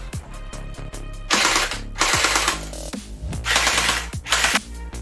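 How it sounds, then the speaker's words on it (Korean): Charging handle on a toy M41A pulse rifle built from an M4 gel blaster being worked by hand, sharp close mechanical clacks and slides alternating with bursts of loud rattling mechanism noise. "장전바도 수동 조작이 가능합니다."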